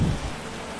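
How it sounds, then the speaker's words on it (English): Heavy rain in a racing video game during an IndyCar Brasil DTM 2019 race at Spa-Francorchamps, a steady dense hiss with a low rumble at the start, loud and continuous with no talk. "it is raining a ton out here right now as Edelson Carnero leading the field"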